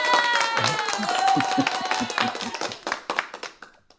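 Clapping breaks out as thanks for a super chat on a live stream, with a few sets of hands over a music bed and a voice talking alongside, fading out by the end.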